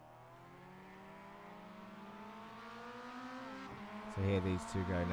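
Mazda MX-5 race cars in iRacing at Oulton Park drone at low speed heading toward the grid, engine tones slowly rising and overlapping, with brief speech-like bursts near the end.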